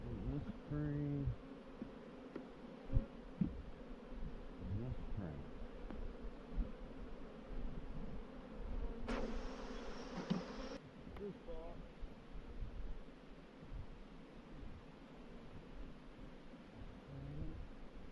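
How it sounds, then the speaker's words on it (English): Honey bees hum in a low, steady drone around hive frames on a homestead, heard up close for the whole stretch at a soft level, with faint rustling and a brief hiss partway through. "There's the bees on that one."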